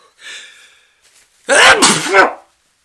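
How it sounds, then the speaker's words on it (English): A quiet intake breath is followed by one loud, sharp sneeze close to the listener, with no talking. "I feel a sneeze coming"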